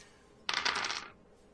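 Several dice clatter together in a single short burst during a tabletop role-playing game, a quick rattle lasting about half a second against a quiet room, with no talking over it.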